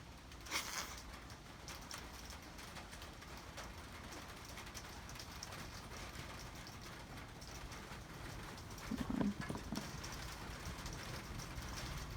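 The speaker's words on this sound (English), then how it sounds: "There's some big old raindrops coming now." Big raindrops falling steadily during a thunderstorm, a continuous soft patter that stays moderately faint throughout, with one brief louder burst near the end.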